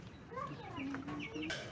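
Broiler chickens on a farm in the Philippines cluck and chatter continuously up close, many overlapping calls in a busy, dense flock with no talking.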